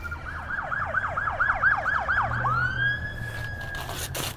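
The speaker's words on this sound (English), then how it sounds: "That sounded like a casino ambulance." Ambulance-style electronic siren, nearby and loud, with a rapid rising-falling warble of about eight cycles that then shifts into a long steady wail, no talking over it.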